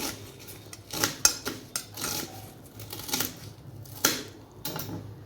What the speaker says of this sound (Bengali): তাই আমি পেঁয়াজ কেটে নিলাম খচখচ করে